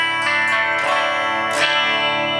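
A distorted electric guitar with chorus effect rings out in sustained, shimmering chords plugged through a digital amp interface, fairly loud and steady with a few picked accents and no talking.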